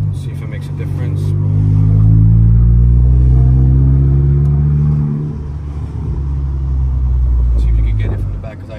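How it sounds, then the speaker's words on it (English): A VW MK8 GTI on a test drive with a rear brace installed, its engine rising in pitch as it accelerates through the gears, heard loudly from inside the cabin with brief voices. "we're just going to do a little test drive with the brace in the back"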